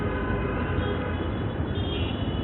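A metro train rumbles near Agargaon metro rail station in Dhaka, a close, steady mechanical roar of wheels and carriages lasting a couple of seconds.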